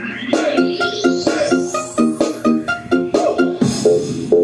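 Bright pop music from a portable party speaker, fuller and louder, with a rising synth sweep over a steady beat and melodic chords.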